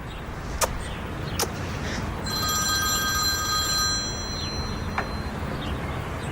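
A telephone bell rings with bright metallic trills over steady background hiss, with a few faint clicks around it.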